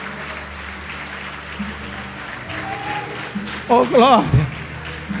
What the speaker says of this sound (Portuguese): Pode aplaudir o Senhor Jesus e glorificá-lo